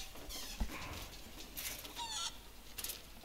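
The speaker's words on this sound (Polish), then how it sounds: "Kura." Soft clucks from a chicken in the LEGO Jurassic World video game, a few short quiet calls over faint game background noise.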